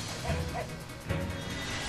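A dog in the Lightning Returns: Final Fantasy XIII video game makes a couple of short whimpering yips over a dense background of game music and ambience.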